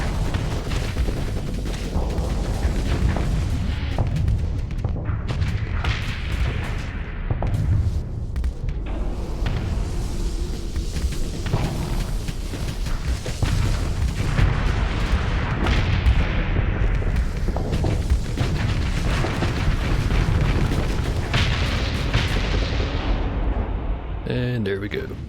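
Weapons fire and explosions in the space combat game Starsector come as dense, continuous booms and blasts layered over a low rumble, with a person talking over much of it.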